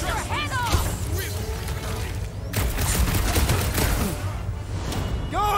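Nova Corps cannons and weapons fire in a Guardians of the Galaxy action game crackle and boom in a dense, continuous barrage, with people talking over the fighting.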